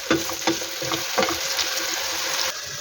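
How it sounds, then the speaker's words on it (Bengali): Potatoes frying in a pan for a prawn and potato curry, a steady loud sizzle with intermittent scraping stirs and clinks of a utensil, close up with no talking. "সাথে আলুগুলো আমি ভাইজা নিতেছি"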